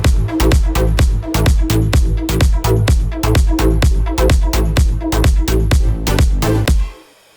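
A progressive house chord progression plays loud and alone, the same chord stabbed in a steady pulsing rhythm with slight shifts in note positions, then cutting off abruptly at the end.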